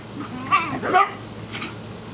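Dogs bark at a barn: a few short, close barks and yips in quick succession over a steady outdoor background.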